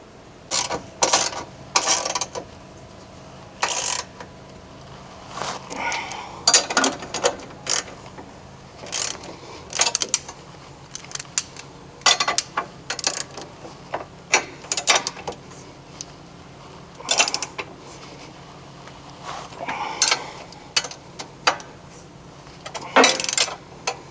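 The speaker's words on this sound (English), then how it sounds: "So now that we've tightened down all the main suspension components" Ratchet clicking in short bursts while the suspension components of a lifted Subaru are tightened, with mechanical clacks and pauses between the bursts.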